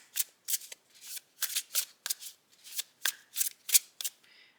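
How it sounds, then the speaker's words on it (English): Tarot cards being shuffled by hand, a series of about a dozen crisp riffling bursts in an uneven rhythm, close and clear against near silence. "I just want to shuffle them up a little bit."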